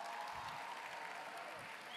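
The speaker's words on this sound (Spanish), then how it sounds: "un aplauso bandón para la banda." Audience applause for a band at a national song festival, steady dense clapping filling the whole stretch at moderate, even loudness with no break.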